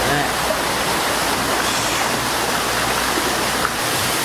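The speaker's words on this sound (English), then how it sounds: "Here's another view from a little further back of the waterfall." Waterfall at the Canada pavilion of Epcot, a loud continuous rushing roar heard from a little distance, steady and unbroken throughout.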